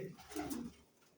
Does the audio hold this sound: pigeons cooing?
yes